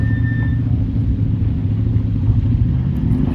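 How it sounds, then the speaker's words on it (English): A Chevy Suburban and a 2.0 turbo Jeep Wrangler JL crawling uphill off-road, a deep, steady engine rumble with low throttle drone, close and continuous without talk. "DJ uses a lot of throttle input, and Mr. Ochoa is just crawling up"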